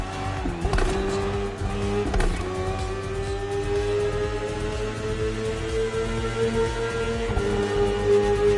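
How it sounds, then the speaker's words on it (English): A BMW S1000RR superbike revs steadily in The Crew Motorfest racing game, its engine tone rising and falling through gear changes, with tyre and road noise continuous throughout and no talking. "The one you're riding is the S1000RR. Is what we call a superbike."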